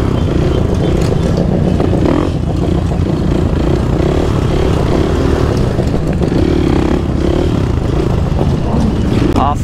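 A motorcycle engine held at a steady, loud drone through a circle wheelie, rough and continuous with slight throttle swells and some clatter, running close the whole time.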